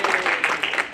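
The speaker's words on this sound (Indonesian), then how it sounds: "Tepuk tangan dulu." A church congregation claps briefly, a dense burst of many hands applauding together, moderately loud and steady for about a second.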